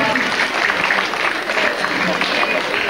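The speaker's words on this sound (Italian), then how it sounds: "Un applauso a Martina." Audience applause fills an Italian stage musical of Snow White and the Seven Dwarfs, a dense, steady patter of clapping heard close and continuous with voices mixed underneath.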